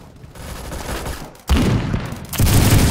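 Gunfire in the Roblox shooter Phantom Forces: a quieter stretch of distant shots, then a sudden loud close burst of rapid fire and booms, with another heavy volley near the end.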